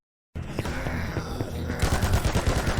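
Rapid video game gunfire while shooting zombies, a dense, loud barrage of overlapping shots with sharp cracks that intensify in the second half, heard alone without talk.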